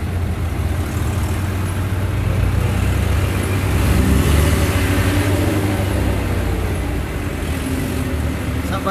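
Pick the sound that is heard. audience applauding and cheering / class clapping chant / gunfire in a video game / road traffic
road traffic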